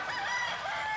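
Roosters crowing with chickens clucking inside hoop coops on a farm, a dense overlapping chorus of calls, fairly close and steady, with no talking.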